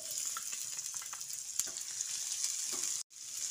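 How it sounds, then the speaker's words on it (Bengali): Chopped onion fries in hot oil with a piece of bay leaf and tempering spices, a steady close sizzle with a few soft stirring scrapes and a brief cut near the end. "ফোড়নটা কয়েক সেকেন্ড ভাজার পর এর মধ্যে একটা চপ করা পেঁয়াজ দিয়ে দিচ্ছি।"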